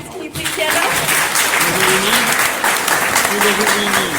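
Applause from an audience of students and families for parents standing up at a bootcamp event, a dense continuous wash of clapping that holds steady throughout, with voices audible beneath it.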